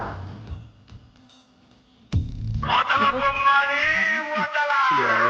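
A cat in a Telugu comedy film scene lets out long, wavering meows that rise and fall, loud and close, after a quieter stretch with brief voices.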